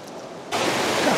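A river current flowing. Steady broadband rushing water starts quietly, then jumps suddenly to a louder, close, continuous wash, with no voices.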